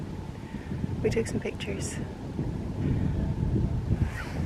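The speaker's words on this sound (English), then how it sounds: "It's much windier up here" Strong wind buffets the microphone on an exposed hilltop on the Isle of Skye, a steady low rumble throughout, with people talking briefly over it.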